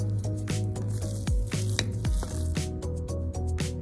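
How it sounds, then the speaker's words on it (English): Fried onions are stirred and mixed in a pan during Japanese home cooking, with soft sizzling under a steady background of music; no voices are heard. "Add the fried onions. Mix them well."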